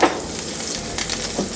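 Meatballs frying in a hot pan give a steady, close sizzle with crackling pops and light stirring scrapes, and no talking.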